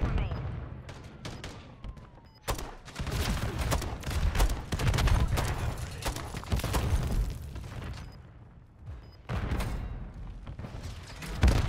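Gunfire in the Modern Warfare video game, dense volleys of rapid automatic shots and heavy booms rattle almost continuously, loud and close, with brief lulls between bursts.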